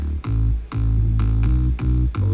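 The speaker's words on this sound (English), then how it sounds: "We have a drop bass here." A heavy drop bass synth pulses in deep, sustained notes with short gaps between hits, loud and full, in a dance track with no voice.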